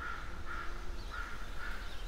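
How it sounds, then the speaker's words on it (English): Crows caw repeatedly in the video game Eventide 3, several harsh calls in a loose rhythm over a steady outdoor ambience, moderately loud with no talking. "the birds are loud in this game"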